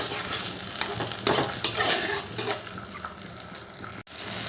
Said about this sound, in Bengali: এবার আমি যে টমেটো আদা কাঁচা লঙ্কার পেস্ট বানিয়ে রেখেছিলাম সেটা দিয়ে দিলাম